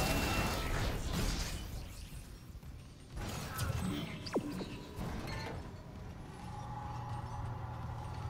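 Elevator machinery in Dead Space Remake: a continuous mechanical rumble with creaks and ratcheting clanks, heavy and steady throughout, with one short sharp metallic squeal partway through.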